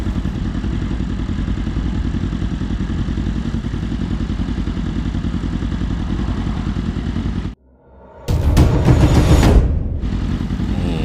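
A group of superbikes rolls along slowly at low throttle in a meetup ride, giving a steady, loud engine drone that cuts out briefly and then returns with a rougher rev.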